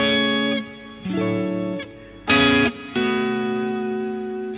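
Clean electric guitar through a Fractal FM3 modeler, sustained chords ringing out and changing every second or so, bright and full with a slight edge, played alone.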